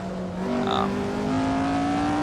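In the Assetto Corsa racing game, a vintage Lotus 49 race car drives with a steady engine drone whose pitch climbs through the gears, and a brief squeal rises partway through, with no talking.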